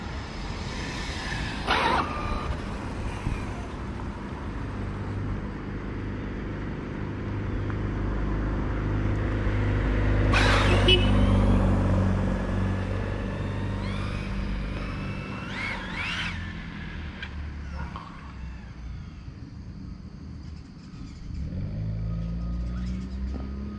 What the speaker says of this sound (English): Waiting on every car to go by today,